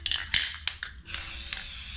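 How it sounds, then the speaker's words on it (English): A spray paint can hisses in a few short bursts, then a longer continuous spray of gloss paint, close and clear with no voices. "And spray that down here."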